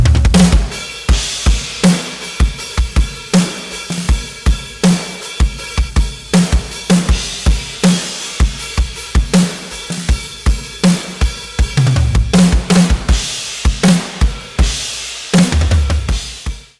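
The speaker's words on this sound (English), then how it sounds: "Here's the whole kit in the chorus." A full drum kit pounds through a big country rock chorus, steady kick and snare hits driving a regular beat under washing cymbals, loud and close with no voices.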